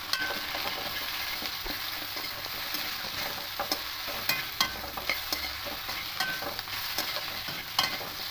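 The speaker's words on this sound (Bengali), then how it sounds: "আর সব মশলাগুলো দিয়ে দেবো, দিয়ে ভালো করে একটু কষে নেব।" Spices fry in a pan for a fish curry, a low steady sizzle with repeated sharp scrapes and clicks from stirring, fairly quiet and without talk.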